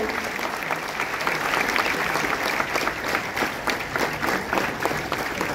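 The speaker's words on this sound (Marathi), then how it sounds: "टाळ्यांचा जोरदार गजर मला वाटतं आपण सुरू ठेवूया." An audience applauds steadily at a Marathi theatre council lifetime achievement award ceremony, with dense, sustained clapping filling the room at a constant, fairly loud level throughout.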